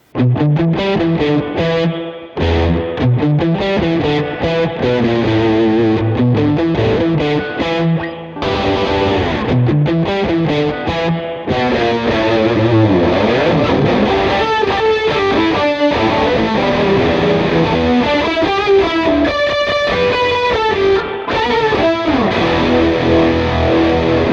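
An electric guitar plays sustained chords and ringing notes through a BOSS RV-500 reverb pedal with heavy reverb and modulation effects, with long washy tails. No talking.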